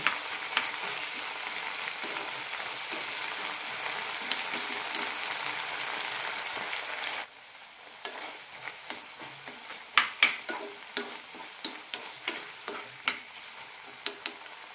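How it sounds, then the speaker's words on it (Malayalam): Tomatoes fry and sizzle in a pan for a tomato garlic chutney, a steady hiss for about seven seconds, then quieter frying broken by repeated close spoon stirs and scrapes. "തക്കാളി നന്നായി വെന്തുടയണം അപ്പോഴാണ് ഈ ചട്നിക്ക് നല്ല ടേസ്റ്റ് ഉണ്ടാവുള്ളൂ"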